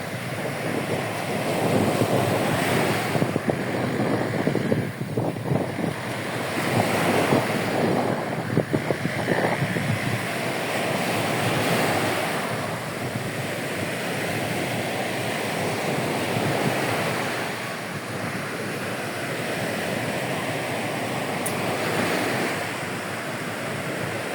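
Strong sea wind buffeting the microphone over waves washing onto the shore at Sipalay City, a steady broad roar with gentle surges and no voices.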